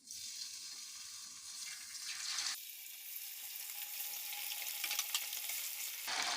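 Chicken pieces deep frying in hot oil in a karahi for a Shinwari karahi, a steady sizzling crackle that abruptly gets louder partway through as more pieces go in, with no one talking.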